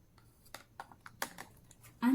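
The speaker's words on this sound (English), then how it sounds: "you have to attach the scrubber head assembly to the main handle until it clicks into place" Plastic clicks as the head assembly of a Hurricane spin scrubber turbo cleaner is pushed onto its main handle: a string of light, close snaps, followed by a louder sound at the very end.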